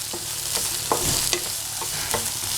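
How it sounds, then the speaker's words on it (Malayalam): Onions sautéing with salt in a pan for a liver fry: a steady sizzle with scraping stirs and spatula knocks, close up, no talking. "സവാള ഒത്തിരി ഫ്രൈ ആകണ്ട, ഒന്ന് വാടിയാൽ മതി"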